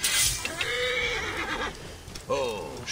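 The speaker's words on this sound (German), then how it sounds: "Ah, das war nur das Pferd." A horse whinnies loudly in Assassin's Creed Origins, a rising neigh followed by a second shorter call near the end, with someone speaking over it.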